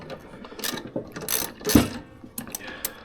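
A ratchet drives a screw down into a board, giving a steady close clicking of the pawl with a few louder rasping turns. It is fairly faint and alone, with no voices.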